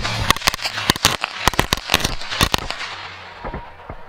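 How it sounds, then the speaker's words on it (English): Rapid bursts of sharp firecracker bangs popping in an irregular string, loud and close, then thinning out toward the end. "A firecracker to blast at the kingdom come."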